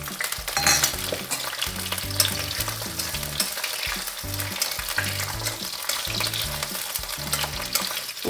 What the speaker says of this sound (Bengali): এবার আমি বেগুনটা এটার সাথে ভেজে নেব একসাথে